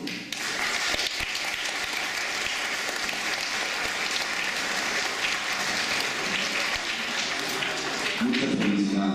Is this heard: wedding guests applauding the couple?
yes